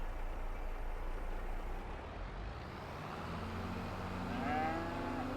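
A cow moos in a farming video game set on an old farm, a drawn-out lowing call rising out of a steady low rumble near the end, with no talking.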